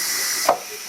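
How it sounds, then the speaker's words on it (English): Steam hisses steadily out of a pressure cooker as its pressure is released while cooking rigatoni, a loud continuous rush with a brief knock partway through. "I didn't realize it was that much steam in there, but there is."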